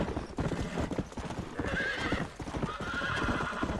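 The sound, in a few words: horse galloping in Red Dead Redemption video game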